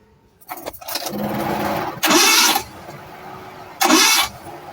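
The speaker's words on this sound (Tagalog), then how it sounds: "Isubukan natin kung bakit ayaw umandar." An engine with a broken timing belt cranks repeatedly with a whirring, rhythmic starter sound but never catches, followed by two short, louder bursts of cranking.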